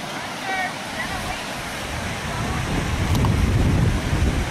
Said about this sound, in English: I don't know if you guys can hear the river or not